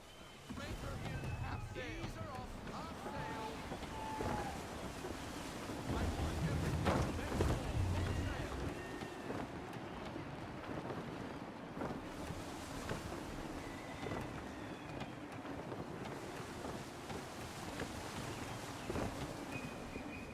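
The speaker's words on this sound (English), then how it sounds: "Gusty winds can be difficult to manage." Steady gusting wind and rushing water surround a sailing ship at sea in Assassin's Creed 3, a broad continuous roar that swells briefly before settling into a constant blustery hiss.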